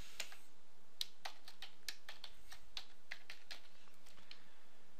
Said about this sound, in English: So I'm going to type in a password for Bobby.